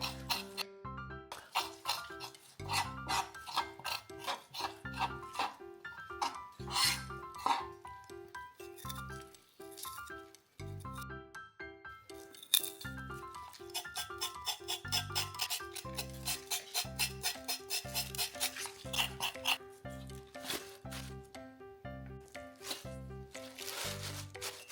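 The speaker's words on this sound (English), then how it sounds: "Do the exact same process to clean the rest of the young radishes." Young radishes being washed by hand in a large bowl of water, with steady splashing, sloshing and clinking against the bowl in repeated bursts, close and fairly busy throughout.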